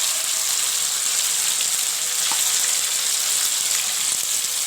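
Saag greens go into a pan of frying tomato, ginger and garlic paste, giving a steady, close sizzle with faint stirring sounds and no speech.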